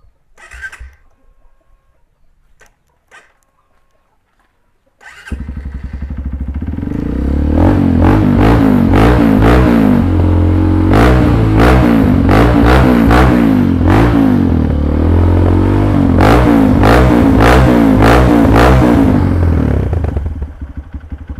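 A motorcycle engine at a used-motorcycle buyer starts after a few soft clicks, then idles and revs loudly and steadily up close, with a rattling, pulsing throb before easing off.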